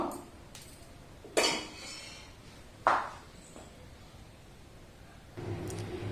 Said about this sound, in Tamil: மிக்ஸ் பண்ணிட்டு நம்ம குக்கரை மூடி வச்சிடலாம்